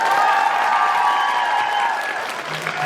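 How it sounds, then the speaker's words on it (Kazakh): A crowd claps at a sündet toy (circumcision feast) celebration, the applause running continuously beneath a sustained musical tone that fills the whole stretch. "Мына шапалақ Фатима әпшеге."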